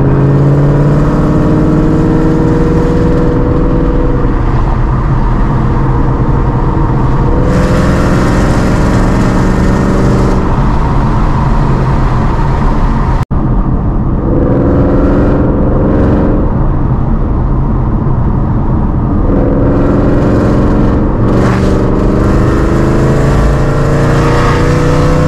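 Shelby GT500 driving from inside the cabin, a steady loud engine drone with road noise throughout, rising and falling with throttle changes and brief revving swells.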